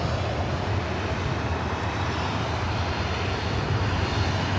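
Airliner engines roaring at LAX airport, a steady broadband drone holding constant and fairly loud throughout, with no voices.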